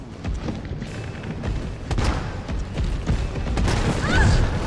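Shotgun fire in Resident Evil 3 booms in several heavy, close blasts over a rumbling game background, spaced irregularly across a few seconds.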